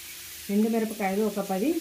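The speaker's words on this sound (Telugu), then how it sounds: "పచ్చి కొబ్బరి 5 మినిట్స్ ఫ్రై చేసుకోవాలి." Grated raw coconut frying in a pan gives a soft, steady sizzle in the background, largely covered by a voice that comes in partway through and hums or talks over it.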